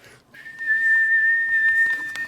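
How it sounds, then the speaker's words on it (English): A guitar amp cabinet's cooling fans whistling through a small hole in the cabinet side, a steady sustained high-pitched tone like a train whistle, with faint clicks underneath. "First turn the fans on with the cabinet on, and it was whistling like a train whistle."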